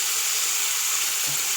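Frozen mixed vegetables of green peas, corn and string beans fry in a pan with a loud, steady, close sizzle and a brief low knock near the end.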